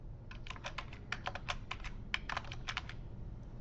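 A date entered on a computer keyboard, crisp, close keystrokes in quick irregular clusters over a quiet low hum, with no voices.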